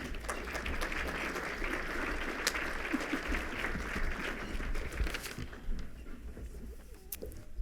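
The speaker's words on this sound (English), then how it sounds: "Let's celebrate with him with a round of applause." An audience at an Akron Roundtable community event gives a round of applause, steady and fairly faint, then fading out near the end.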